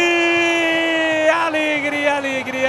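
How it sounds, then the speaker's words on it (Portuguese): Cametá football fans roaring after a goal, a loud sustained mass of voices with rising whoops and yells, dense and continuous throughout. "Alegria, torcida cametaense, festa pro Jailson!"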